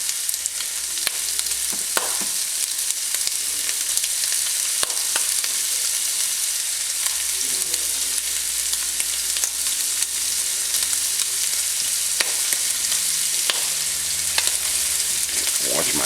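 Ground meat frying for a spicy cheesy chili lasagna, a steady loud sizzle with scattered scraping stir strokes from a utensil in the pan, no voices.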